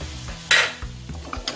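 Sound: onion and chayote sautéing in a pan

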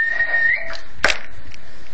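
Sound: person whistling into a radio microphone

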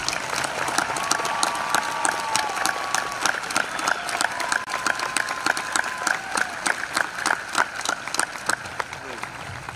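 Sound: graduation crowd applauding school district employees

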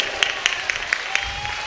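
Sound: congregation clapping hands in church

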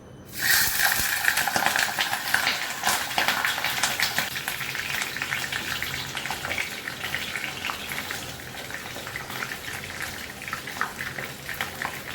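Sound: eggs frying in mustard oil

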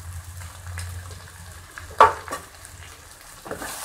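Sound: stirring spices into raw banana curry in a pan

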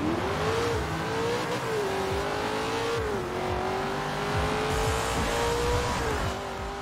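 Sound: Chevrolet Camaro engine revving in video game Forza Horizon 4

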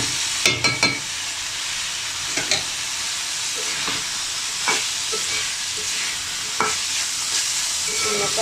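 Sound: stirring and frying boiled vegetables in spiced oil

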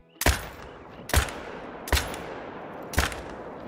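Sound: AR rifle shots fired at a rock

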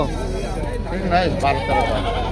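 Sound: goats bleating at a livestock market

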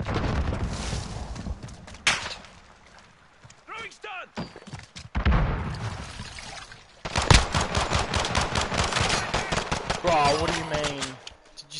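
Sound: gunfire in Call of Duty Modern Warfare video game

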